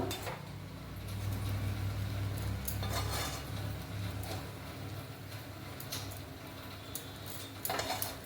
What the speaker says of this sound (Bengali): এবার আমি এটাকে একটা পাত্রে নামিয়ে রাখছি।